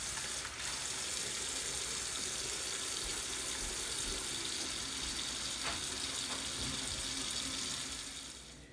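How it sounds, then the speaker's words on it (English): Tap water runs steadily into a kitchen sink holding canning jars, set up for home canning of strawberry balsamic jam; a continuous hissing splash that holds even throughout and tapers slightly at the end, with no talking. "Now that we have the water going and our jars in the sink"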